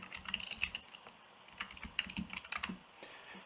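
Typing on a computer keyboard gives quick, irregular clicks of keys, close but fairly quiet, with no talk.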